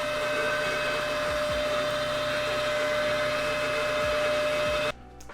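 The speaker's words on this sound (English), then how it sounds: "We're gonna throw a little laminate over these stickers just to protect them from sunlight and scratches." Laminating machine running steadily as stickers are fed through it during a motorcycle rebuild, a loud continuous motor whine with a high tone, ending abruptly before a brief quieter tail.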